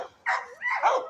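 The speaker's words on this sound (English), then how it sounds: "Sorry for the dogs barking" Dogs bark in a few loud, close bursts, a short gap followed by overlapping yips and barks.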